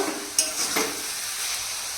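Cabbage frying in oil in a pan: a soft, steady sizzle close by, with a brief utensil clink near the start and no talking.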